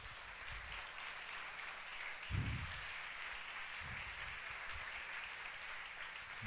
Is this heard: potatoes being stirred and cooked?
no